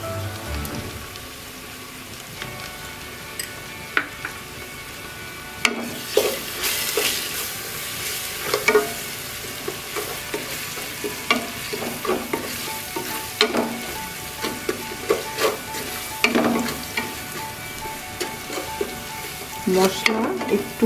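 Spices and green chilies frying for khichuri, a dense continuous sizzle close by with frequent crackles and spatters and occasional stirring scrapes, loud and busy throughout.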